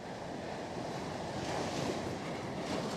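Surf rolling onto the beach at Coney Island, Brooklyn, on a snowy winter day, a steady broadband wash of waves mixed with wind noise, unbroken and moderately loud throughout.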